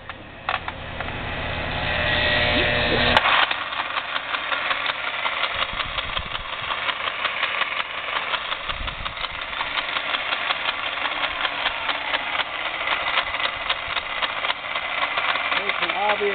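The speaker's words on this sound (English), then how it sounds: "Makes an obvious noise there. Very loud noise out of the gearbox." A Milwaukee 4208 magnetic drill press with a defective gearbox starts up and runs, its motor whining loudly, then settles into a rough, rattling, knocking drone that continues steadily to the end.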